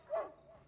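A single short dog bark rings out in Call of Duty: Modern Warfare II, a quiet, brief yelp over faint game ambience.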